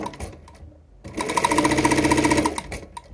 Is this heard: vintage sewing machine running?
yes